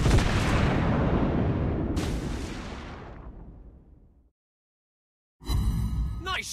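Naval gunfire from a Tier VII British cruiser strikes an enemy ship in World of Warships Blitz: one loud booming blast decays over several seconds, a second crack lands partway through, then silence before another burst of game sound.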